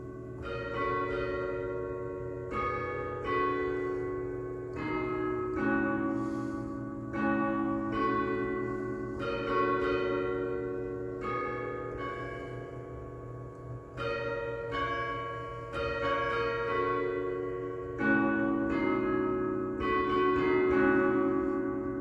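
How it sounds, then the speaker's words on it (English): Tower bells like church steeple bells ring in a continuous peal, struck notes overlapping in a steady rhythm with long ringing decay, alone without voices. "We call them tower bells. You might think of it as Big Ben in London or church steeple bells."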